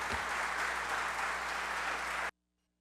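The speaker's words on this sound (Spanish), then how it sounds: "rian Townsend Bahamón, economista del CONEP, para quien pedimos un fuerte aplauso." Steady, dense applause from a crowd, loud and even for about two seconds before stopping abruptly.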